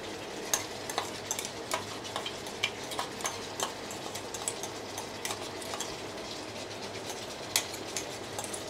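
Ginger garlic paste going into chicken frying in a home kitchen pan gives a steady low sizzle, with a spoon scraping and tapping in a loose rhythm throughout, close and fairly quiet.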